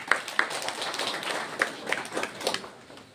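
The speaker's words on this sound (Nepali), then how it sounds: "उहाँलाई हामी ताली दिनेछौँ।" Scattered hand claps from a church congregation, a few sharp separate claps spread across a few seconds rather than a full burst of applause, heard at moderate distance in a room.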